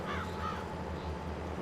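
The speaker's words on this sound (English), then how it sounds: "Bunch of blackbirds, one of the crows" Crows cawing in the video game Farming Simulator 22, set in eastern North Carolina; a couple of distant caws over a steady low ambient hum.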